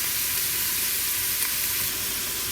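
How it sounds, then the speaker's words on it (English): Garlic, cabbage, carrots, celery and onions sautéing in olive oil, a constant dense sizzle and hiss filling the clip, close and steady with no voices. "put some olive oil in there, and I added all my vegetables, my garlic, my cabbage, my carrots, celery, onions, and I'm sauteing all that right now"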